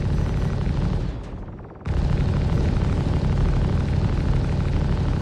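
Rattler missiles in a video game launch and burst into a dense, continuous roar of blasts that fill the whole stretch, dipping briefly before surging back loud and sustained.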